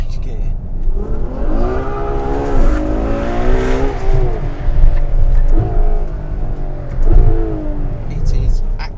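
Ferrari F12 Berlinetta engine at full throttle, loud and close, its pitch climbing in repeated surges and dropping sharply at fast gear changes, over steady road and wind roar.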